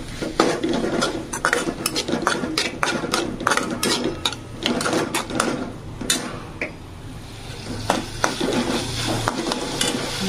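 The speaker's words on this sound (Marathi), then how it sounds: "तर आता हे जे आहे आपल्याला इथे आता छान आपल्याला फ्राय करून घ्यायचं." Vegetables fried in a pan for hakka noodles, with rapid, busy clatter of a utensil tossing and scraping against the pan over a low sizzle, loud and close, no speech.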